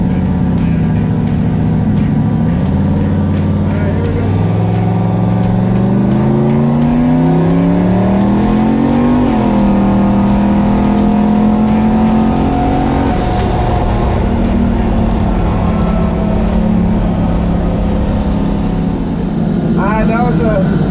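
A Maliboom vehicle accelerating hard on a freeway, the engine note climbing steadily through a long pull with a gear change midway, loud and close from inside, then settling to a steady cruise drone with a voice speaking briefly.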